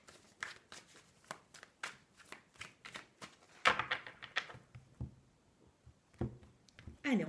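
Tarot cards are shuffled and handled close by in a quick series of crisp riffling snaps and flicks, followed by scattered softer slaps and slides as cards are drawn, with a voice speaking intermittently.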